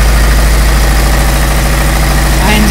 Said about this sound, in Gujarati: હવે આપણે એન્જિનને સ્ટાર્ટ કરીને જોઈએ